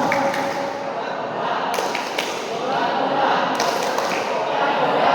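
A group of Scouts performs the Tepuk Coca-Cola clapping chant, with voices chanting over a few sharp, scattered claps in a noisy, echoing space.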